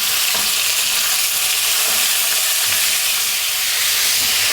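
Chunks of pork belly fry over fairly high heat, giving a steady, dense sizzle and crackle that stays loud and unbroken, with faint pops and no voices.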